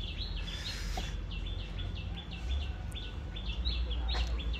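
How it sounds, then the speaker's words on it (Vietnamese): Birds chirp repeatedly in short, bright, evenly spaced calls over a low steady background at a quiet outdoor goat-meat restaurant in Đại Đồng, Vĩnh Tường, fairly faint and without talk. "Tiếng chim hót níu no luôn"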